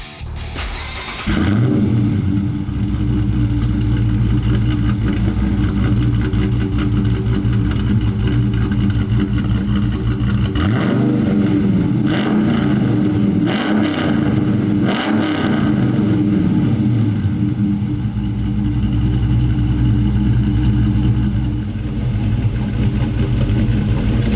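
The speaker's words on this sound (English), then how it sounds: "But performance aside, what about that idle? Well, have a listen." A modified 5.7L Hemi V8 with aftermarket camshaft, intake and headers starts and settles into a loud, lumpy, choppy idle, its uneven rhythm rumbling steadily and close for over twenty seconds with occasional small blips.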